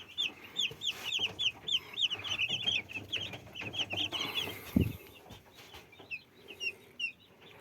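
Broiler chicks, a day old, peep and cluck in a brooder shed while being lifted onto scales, a steady chorus of high chirps with a brief low thump partway through.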